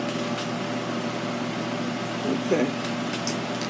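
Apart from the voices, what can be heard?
loud stove range hood fan running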